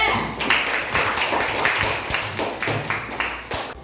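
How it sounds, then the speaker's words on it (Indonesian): A fourth-grade classroom claps for a student group, a dense, steady burst of many hands clapping together that lasts a few seconds before tapering off. "Tepuk tangan untuk kelompok 2"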